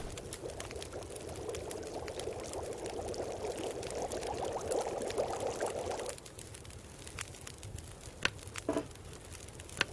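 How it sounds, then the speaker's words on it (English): Snow melting over a campfire in The Long Dark, a steady pouring, bubbling water sound that runs strongly for six seconds, then thins to faint trickles and a few soft taps. "I'm also going to melt a liter of snow"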